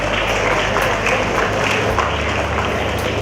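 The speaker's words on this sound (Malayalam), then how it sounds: "പാർട്ടിസിപ്പേറ്റ് ചെയ്ത് എല്ലാവർക്കും ആദ്യം നല്ലൊരു കൈയടി കൊടുക്കാം." Applause from the audience for participants at the FUNBRELLA 2018 event at Kochi Marriott Hotel, a steady dense wash of clapping over low hum and some background talk throughout.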